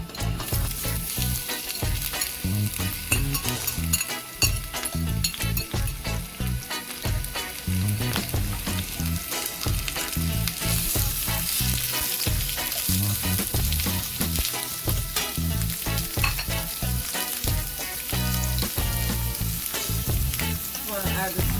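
Onions fry in a hot pan for Jamaican-style corned beef, a loud, steady sizzle with dense crackling and popping that continues without a break, and no voices over it.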